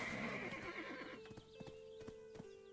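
A horse in the Black Desert Online video game gallops with a steady clip-clop of hooves, preceded by a loud, drawn-out neigh, all fairly close with game ambience underneath.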